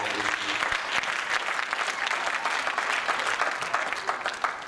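A church congregation breaks into dense, sustained applause, loud and close, with some voices mixed into the clapping throughout.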